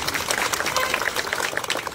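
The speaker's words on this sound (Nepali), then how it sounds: "पत्रकार साथीहरूको लागि ताली बजाउनुपर्छ" Crowd applause for journalist friends at a town cleanliness campaign event with the mayor, a dense burst of many hands clapping steadily throughout, fairly close and loud.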